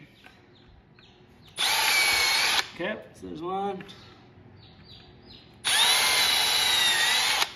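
A power drill whines loudly in two short bursts through wood separated by a pause where a person speaks briefly; the high motor pitch holds steady during each run.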